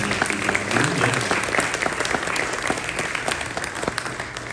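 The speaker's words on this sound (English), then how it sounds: "Round of applause for him." At a spring concert awards ceremony, an audience breaks into continuous applause, a thick roomy patter of many hands that stays even and fairly loud throughout, with faint murmurs mixed in.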